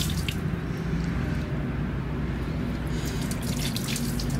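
Water runs and splashes continuously as a dog is bathed during mango worm removal, a close, steady gush with small drips and squishes on top and no talk.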